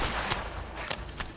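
Gunfire in the video game A Way Out: three sharp, short bangs spaced unevenly over a steady background hiss, with no speech.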